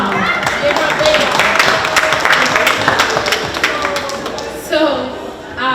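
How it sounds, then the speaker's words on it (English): Applause and clapping from an audience at a pageant sashing ceremony, steady and fairly loud throughout, with a voice talking over it. "I want you guys to give her a big round of applause"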